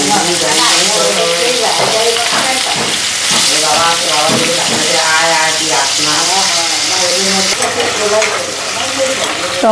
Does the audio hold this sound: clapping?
no